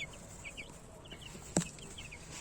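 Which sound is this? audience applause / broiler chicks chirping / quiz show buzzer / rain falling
broiler chicks chirping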